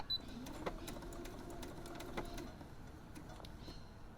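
Sewing machine running a tote bag seam forward and then in reverse, a steady low mechanical hum with faint clicks, at moderate level throughout.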